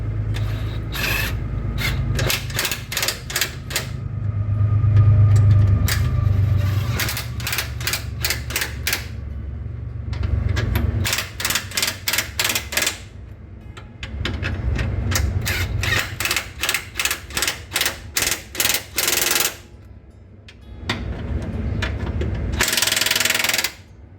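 Bolts on a Toyota RAV4 sway bar bushing bracket being cinched down in a crisscross pattern, with repeated rapid ratcheting bursts, loud and close, separated by short pauses and some scraping rubs.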